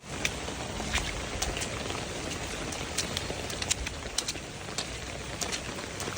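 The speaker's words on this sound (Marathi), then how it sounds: "पाऊस आणखी पण चालूच आहे" Steady rain falling and pattering on surfaces nearby, a continuous wash of drops with occasional sharper drip ticks, no voices.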